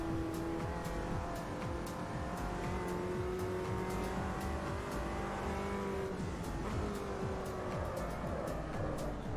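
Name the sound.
race car engine sound from Automobilista 2 video game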